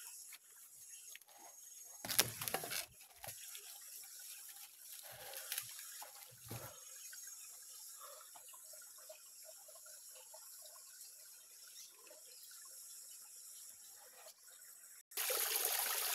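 Water trickles and flows steadily from the dam feeding a tilapia fishpond, a soft continuous outdoor wash with a few louder splashes early on and no talk.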